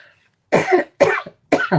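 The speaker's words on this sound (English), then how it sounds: "Let me clear my throat." Three rough throat-clearing bursts, close and loud, each a short harsh rasp followed by a smaller second push, with pauses between.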